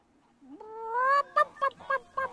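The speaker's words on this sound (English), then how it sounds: "It's a group of 3 chickens." Group of three chickens in the video game Fable 3, with a rising drawn-out squawk followed by four short, evenly spaced clucks, close and clear with no talking.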